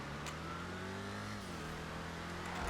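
A race car engine in GTA 5 Online revs hard and steady, its pitch climbing, dipping briefly and climbing again through a continuous, loud drone with no voices.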